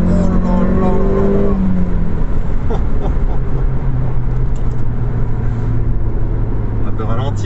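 An Audi S1 Quattro with a manual gearbox revs hard from inside the car, the engine pitch climbing and shifting under loud excited voices.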